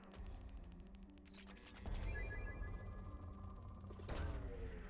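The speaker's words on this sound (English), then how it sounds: "Launching probe." A probe launching in the Mass Effect 2 video game, punchy mechanical thumps and whooshing bursts with ringing electronic tones, building in two surges, loud and close.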